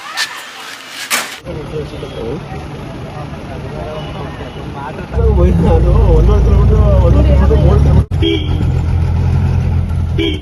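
A jeep climbs the road up to En Ooru tribal village in Wayanad, Kerala. The engine drones steadily and jumps to a loud, rough rumble partway through, close by, while people talk over it.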